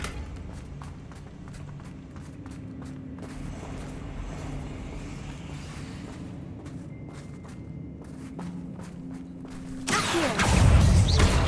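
A Confringo blasting curse in Hogwarts Legacy erupts as a loud, close explosion near the end, following a stretch of quieter game ambience with scattered footsteps and clicks.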